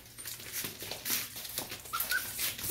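Several 4.5-week-old puppies whimper and yip in a pen, a cluster of soft, high cries rising and falling close by over a couple of seconds with no talking.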